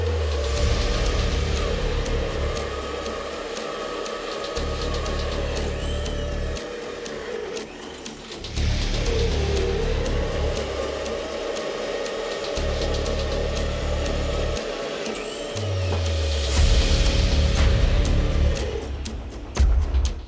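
Drill boring holes with a cobalt drill bit, a steady loud motor whine in long bursts separated by brief pauses, with a harsher grinding surge near the end.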